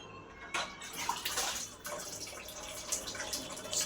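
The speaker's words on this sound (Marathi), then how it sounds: "थोडंसं पाणी ऍड करते." Water splashes and pours steadily into a grinder jar of onion paste in a home kitchen, a continuous close trickle with brief louder gushes and no talk.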